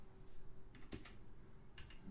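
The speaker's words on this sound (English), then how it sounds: "I'm pressing keys" Keys pressed on a computer keyboard at a game's start screen, a few sparse quiet clicks at irregular intervals over a steady low hum of room noise.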